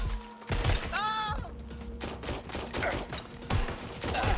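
Gunfire in the Watch Dogs: Legion game, with bursts of rapid shots and thuds mixed with a shouting voice, loud and close over a busy in-game soundscape.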